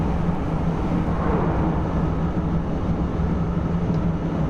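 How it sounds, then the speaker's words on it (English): A southbound MARC commuter train rumbles past on the Northeast Corridor between Washington DC and Baltimore in Train Sim World 2021, a steady low heavy rolling drone with a faint tonal hum, continuous and fairly loud. "There's a southbound MARC train."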